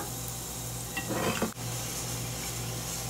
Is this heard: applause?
no